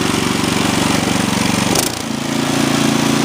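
A Troy-Bilt 2620 snow blower's engine runs loud and steady, close by, with a short dip and re-rev partway through as it is throttled up again.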